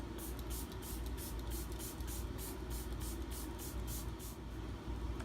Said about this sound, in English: Lock-It makeup setting spray.